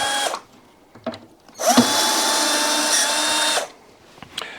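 A power tool whirs steadily for about two seconds as side screws are removed from a built-in integrated Bosch washing machine, with short bursts before and after.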